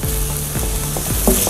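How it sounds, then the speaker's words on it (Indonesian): Garlic and chopped onion sauté in a hot pan for a creamy spinach pasta, sizzling loudly and continuously while a utensil scrapes and taps the pan a few times, with no talk. "kita saute sebentar"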